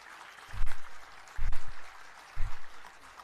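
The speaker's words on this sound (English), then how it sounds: "can we have a huge round of applause, please?" A crowd applauding at a lecture in three bursts separated by short pauses, loud and close.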